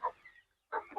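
Chickens on a small poultry farm give two short clucks about two-thirds of a second apart, close and moderately loud, with a faint trailing call between them.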